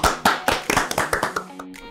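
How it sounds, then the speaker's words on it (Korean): Hands clap in a quick, steady run of about a dozen sharp claps, close and loud, slowing slightly toward the end. "박수 한번 칠게요."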